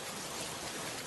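Heavy rain falls steadily on a village, a dense even hiss of drops on surfaces, fairly quiet and without voices, in a cartoon scene.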